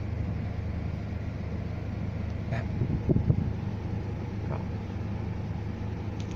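Engine of a Hyundai H-1 van with 135,513 km, checked after a fan replacement, idling: a steady low droning hum with a constant tone, moderately close, with faint wind-like noise and a brief louder rumble midway.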